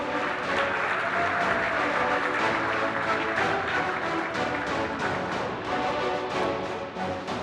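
Sustained applause fills a banquet hall at a junior golf awards dinner, steady dense clapping from a large crowd that holds at full strength throughout and dips slightly at the very end.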